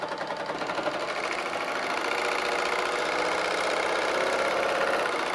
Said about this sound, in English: So now as we stitch, you'll be able to see that it's accommodating that added thickness.